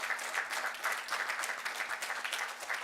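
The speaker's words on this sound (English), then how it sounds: "wonderful applause for the Black Bread Company" An audience at an evening kickoff event applauds steadily, a moderate wash of clapping with a faint low hum beneath it.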